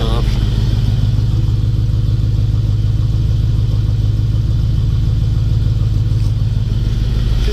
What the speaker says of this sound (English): Idling a little high right now just because it's cold